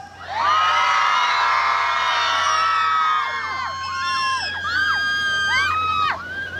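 An outdoor concert crowd at a seaside cultural festival in Toucheng screams and cheers loudly for a group photo, a sustained burst of high-pitched shrieks and whoops that tapers off into scattered excited cries.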